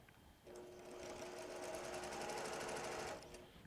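A sewing machine runs in one steady burst of about two and a half seconds, stitching batik quilt fabric strips together for log cabin sashing, with a fast, even whirring hum that starts and stops cleanly in a quiet room.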